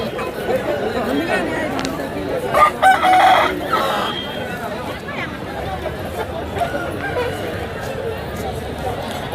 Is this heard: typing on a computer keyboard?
no